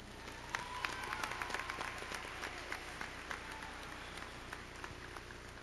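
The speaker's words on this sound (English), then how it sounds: "give ourselves a round of applause" Graduation audience claps in sustained, dense applause, heard at a moderate distance with scattered sharper claps and a few cheers, gradually thinning toward the end.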